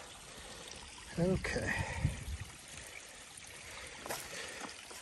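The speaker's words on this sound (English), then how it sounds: "Over the rock ledge, falls it down into the creek there, or the lake." A steady wash of water trickles over a rock ledge into a creek along the Duck River Trail, heard close and continuous, with a brief spoken word early on.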